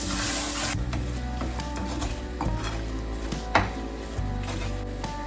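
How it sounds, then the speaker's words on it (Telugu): Green chillies and curry leaves, added after cumin powder, sizzle gently in a frying pan, a soft continuous crackle punctuated by light clicks and taps of a utensil against the pan. "కొంచెం క్యూమిన్ పౌడర్, నెక్స్ట్ పచ్చిమిరపకాయలు కరివేపాకు యాడ్ చేద్దాం."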